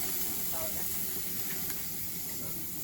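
Sardines fry in oil on a grill with a steady, close hiss and sizzle that continues unbroken and fairly loud.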